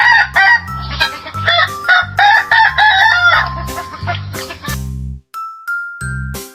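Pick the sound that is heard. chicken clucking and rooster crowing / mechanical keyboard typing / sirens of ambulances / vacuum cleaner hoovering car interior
chicken clucking and rooster crowing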